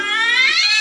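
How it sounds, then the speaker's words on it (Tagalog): A cat yowls in one drawn-out, rising and falling meow, loud and close, with no other sound around it. "Pusa pala yun."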